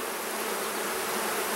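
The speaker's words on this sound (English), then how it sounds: "pretty happy with what I've seen as far as the number of bees in this hive" Honey bees buzz steadily and loudly from an open hive during an inspection, a dense continuous drone with no voices.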